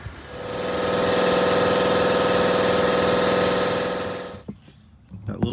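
1973 VW Thing with a replaced Solex carburetor idles steadily at close range, a buzzing air-cooled drone that cuts off abruptly near the end, leaving faint clicks and handling noises.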